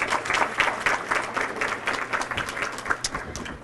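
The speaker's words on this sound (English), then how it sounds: "let's give one more hand clap for Ellen" Audience applause at a banquet dinner honoring students, a steady wash of many hands clapping that carries on evenly for several seconds, moderately loud and without speech.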